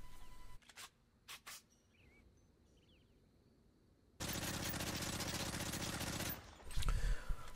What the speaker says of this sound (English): So here's a quick demo on how the gun's recoil is with kick and without kick.